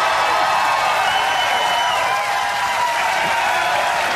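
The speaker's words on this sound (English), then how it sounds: "They're still cheering." A studio audience on a late-night talk show keeps cheering and clapping, a steady loud wash of applause and whoops that holds without a break from start to finish.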